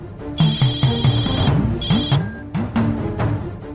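A mobile phone ringtone plays loudly and close, a repeating electronic melody in two bursts with a short pause between them.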